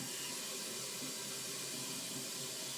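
Warm water pours from a tap into a bucket for cleaning fired brass cartridge cases, a steady hissing rush with no pauses, close and continuous throughout.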